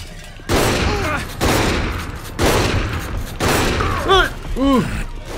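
Gunfire in Saints Row: The Third Remastered, with loud bursts of shots that come in waves across the scene, and brief voice-like tones over the shooting near the end.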